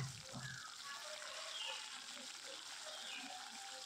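Khoira fish frying in hot oil: a soft, steady sizzle and hiss with faint bubbling pops, low in level and continuous throughout.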